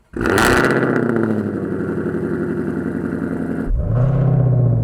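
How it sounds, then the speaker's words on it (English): A Ford Shelby GT500 engine cranks and fires up, roaring loudly into a high rev before settling into a deep, steady idle, then surging again near the end; no talking. "Let's go ahead and start up the vehicle and see what it's like."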